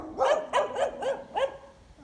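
A small grey dog barks five times in a steady, fairly close series during an evening walk past flowering gardens, each bark short and sharp with brief gaps between them.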